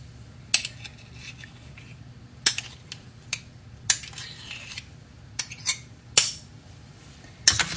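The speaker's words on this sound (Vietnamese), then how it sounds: "các bạn lấy cái đầu quậy nè, mình sẽ quậy đều lên" A whisk or utensil strikes a bowl while bánh bao dough mixture is stirred, giving a series of sharp metallic clinks at irregular intervals over a quiet background.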